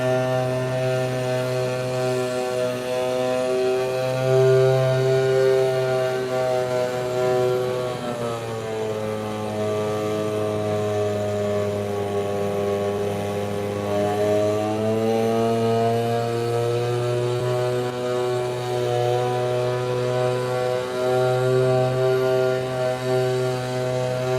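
A leaf blower runs steadily outside for the whole stretch, a loud, continuous droning engine whine with slight pitch swells, heard alone without talk.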